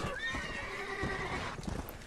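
Horse in the Red Dead Redemption video game gives a long, bright neigh that rises and wavers for over a second, with game hoofbeats and a few soft thuds underneath, loud and close.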